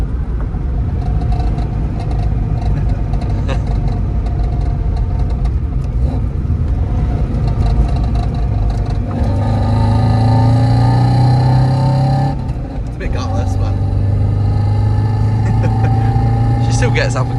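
Engine of a budget-build Subaru wagon running and revving while driving, a loud continuous rumble with rising and falling tones, and people talking over it throughout.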